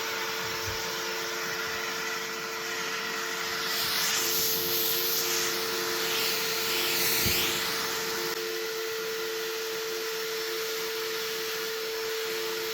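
A vacuum cleaner runs steadily with a strong hiss and motor whine as it sucks insects off someone's head at an off-grid wilderness home, the roar swelling slightly midway and then settling back, with no talking.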